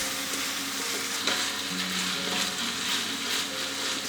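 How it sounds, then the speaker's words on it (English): Minced pork filling for Vietnamese banh xeo, seasoned with oyster sauce, fish sauce, salt and pepper, sizzles steadily in a hot pan while being stirred, with a few faint scrapes breaking the constant frying hiss. "Stir for 3 minutes."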